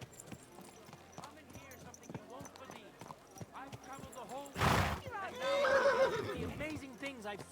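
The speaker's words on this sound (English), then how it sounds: "Horse!" A horse in Kingdom Come Deliverance 2 gives a loud, shaky whinny after a short burst of noise. Hoof clip-clops and faint game sounds can be heard underneath.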